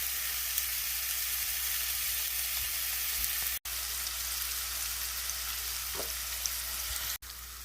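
Black beans and other food sizzle steadily in a pot on a home stove, a constant loud hiss with faint stirring scrapes and two brief cut-outs, no voices.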